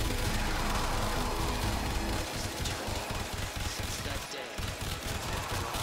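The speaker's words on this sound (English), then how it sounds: "when you hit an enemy with Zadas, what's gonna happen is the bullets are gonna ricochet to other enemies" Rapid gunfire from the Zadas weapon in a shooter video game, bullets ricocheting between enemies, as a dense, continuous burst of shots runs throughout with steady loudness.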